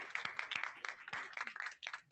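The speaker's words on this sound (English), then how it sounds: "Can we have a round of applause?" Brief, quiet applause from a small audience at a library system board meeting, a scattered patter of hand claps for about two seconds.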